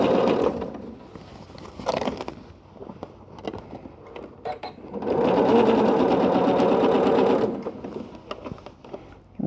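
Sewing machine stitching a seam joining the bottom to the side of a quilted tote bag, short bursts of running then a longer steady whirring stretch, close and fairly loud with brief pauses.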